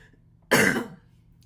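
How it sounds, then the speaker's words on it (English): A single short, harsh cough sounds close by, a brief burst that quickly fades into quiet. "I have a little cough"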